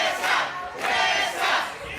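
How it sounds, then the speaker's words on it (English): Wrestling crowd in Sevierville, Tennessee roaring and chanting for Tessa in rhythmic surging waves of cheers, loud and full across the arena. "Crowd here in Sevierville, Tennessee, coming alive for Tessa"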